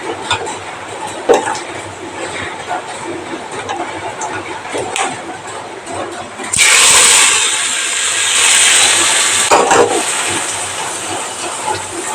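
Hot tempering is poured into beetroot pachadi, a sudden loud sizzling hiss bursting up midway over quieter kitchen clatter and stirring, then settling into a steady crackle.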